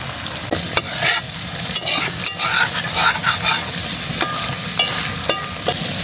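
Chicken kala bhuna sizzles in oil in a pan while a spoon stirs it, with a steady fry hiss broken by repeated scraping strokes and clinks close up.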